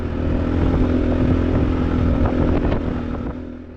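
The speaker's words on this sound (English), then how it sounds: "Kind of cruising through this section in, I think, 4th gear." A dirt bike motorcycle cruises steadily in fourth gear during a hare and hound race, its engine droning loud and close with a continuous rough roar that eases slightly near the end.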